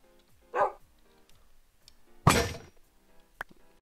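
A dog barks in a video game's large 40-versus-40 battle mode, two sharp bursts spaced over a couple of seconds with a brief knock after, fairly close, and no voices.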